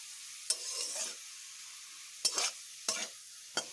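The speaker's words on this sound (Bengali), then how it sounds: "এগুলোকে আমি একটু বেশ ভালোভাবে ভেজে নিলাম, ডিপ ফ্রাই করেছি।" Potatoes deep-frying in oil, with faint sizzling broken by several sharp scrapes and stirs of a utensil against the pan, quiet and close.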